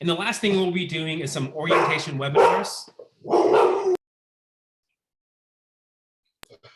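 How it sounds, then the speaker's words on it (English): A pet dog barks and yips in a home while a person speaks steadily, the dog sounds mixed under the talk, followed by silence. "Sorry about that. That's my dog."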